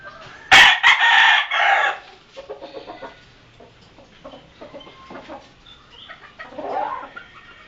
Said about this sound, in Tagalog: Nagkatas dami palang manok.